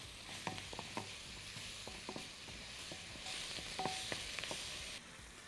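An onion fries with salt in a pan, giving a soft sizzle with light clicks and scrapes of stirring scattered through it, faint and close with nobody speaking.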